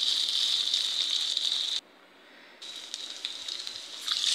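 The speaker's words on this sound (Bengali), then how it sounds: "তেলটা গরম হতে পরে পেঁয়াজ কুচি, রসুন কুচি, এগুলো সব দিয়ে দিছি" Chopped onion and garlic frying in hot oil give a steady, bright sizzling hiss that cuts out briefly midway, then resumes and swells toward the end. No voices are heard.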